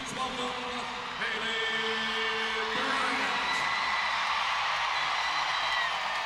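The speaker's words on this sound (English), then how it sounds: "Listen to that ovation. The crowd loves her" A loud crowd roars and cheers at an NCAA women's gymnastics meet, LSU Tigers versus Georgia Bulldogs, with a steady dense wash of voices holding throughout and a few whoops rising above it.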